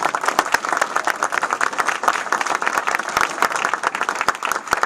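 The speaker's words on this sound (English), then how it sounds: "We should applaud ourselves." Audience applause at a community energy conference in Vermont, a dense steady wash of many hands clapping from start to finish, close and fairly loud with no voices.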